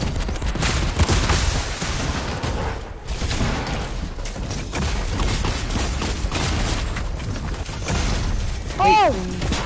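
Sustained gunfire and rocket bursts from a mech in a console shooter, dense and loud for the whole stretch with a few sharper pops, while players chatter over the din.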